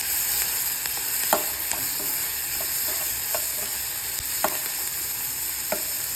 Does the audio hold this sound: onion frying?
yes